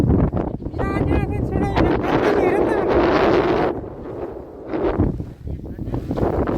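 Heavy wind buffets the microphone in strong rumbling gusts on a farm, with a person talking through it before the roar eases and returns.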